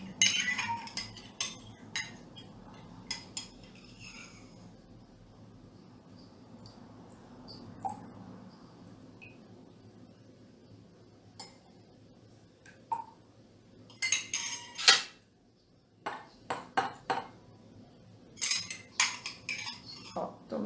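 Yellow and black pigment stirred in a small cup, producing clinking, tapping bursts of an implement against the sides, with quiet gaps between clusters of strokes.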